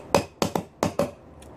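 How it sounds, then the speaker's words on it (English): A spoon taps the metal lid of an apple butter jar five times in an uneven, drum-like rhythm, each tap a sharp, close, ringing clink with no voices. "You also have to spoon the top part of the lid because it makes kind of a cool sound."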